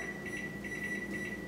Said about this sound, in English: I'm going to set my timer, 50 minutes,